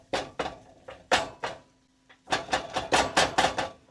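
A meat chopper strikes cooked ground beef in a pan, giving a series of sharp clacking hits in irregular clusters, close and fairly loud, with a short pause midway and no talk.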